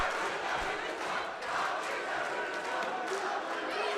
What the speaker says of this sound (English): Grant fans are up on their feet cheering.